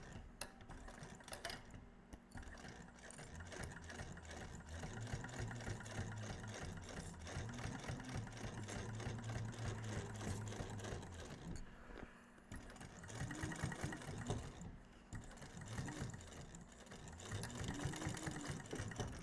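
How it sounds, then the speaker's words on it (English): A sewing machine stitches an opening closed with a tiny seam allowance on a Blue Calla Tumbleweed bag, humming steadily in close, even bursts that briefly pause and restart, alone without talk. "now we're going to just sew this opening closed with a little tiny little seam allowance here"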